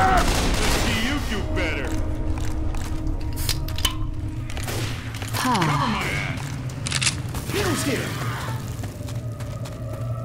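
Rifle fire in the Left 4 Dead 2 Blood Harvest campaign, bursts of crackling shots amid game effects and background noise, with players talking over it.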